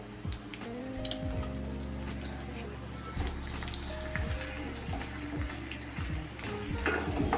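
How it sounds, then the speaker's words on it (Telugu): Dried red chillies, seasoning seeds and coarsely crushed garlic frying in hot oil, a steady close sizzle and crackle with occasional stirring clinks and soft background voices. "వేడైన ఆయిల్లో ఎండుమిరపకాయలు, తాలింపు గింజలు, కచ్చాపచ్చా దంచిన వెల్లుల్లిపాయ వేసి ఫ్రై చేసుకుందాం"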